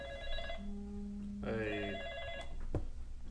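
A phone rings with an incoming call in a short electronic tone pattern, a few repeated beeps rising and falling close by, while voices talk quietly in the background.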